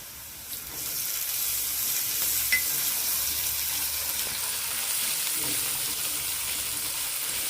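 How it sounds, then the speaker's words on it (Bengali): Ginger garlic paste frying in a pan for paneer masala, a steady even hiss of sizzling with occasional soft stirring scrapes, no voices. "যতক্ষণ না আদা রসুনের কাঁচা ভাতটা যাচ্ছে ততক্ষণ কষিয়ে নিচ্ছি"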